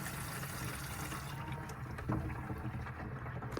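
Water rushes steadily at full pressure from a small pump in a micro camper plumbing kit, a continuous close splashing flow with a brief gurgle midway.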